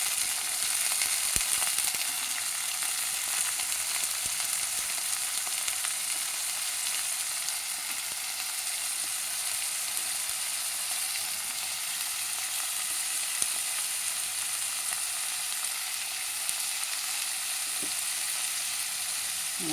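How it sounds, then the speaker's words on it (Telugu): Green peas and chopped vegetables frying in a pan, a loud, continuous sizzle that holds steady for the whole stretch with only faint occasional ticks. "అన్నీ ఒకదాని తర్వాత ఒకటి వేసుకొని ఇన్ని వేయించుకోవాలండి మొత్తం."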